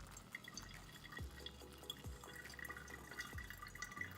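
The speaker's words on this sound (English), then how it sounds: "Now we're going to actually pour this water in here and make this full cup of coffee now" Hot water trickles and drips gently into a pour-over coffee cone, a quiet, steady flow with soft splashes and no voices.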